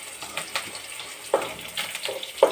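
Curry leaves and green chillies hit hot tempering oil for a ridge gourd curry, producing sharp sputtering pops and bursts of sizzle, close and loud, with no speech.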